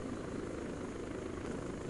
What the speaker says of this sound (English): I land the helicopter so that I can have the player unit or units eject, and then the AI will take off and leave the area